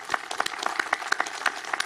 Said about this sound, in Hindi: अपनी इस उपलब्धि के लिए भी तालियां बजाएं।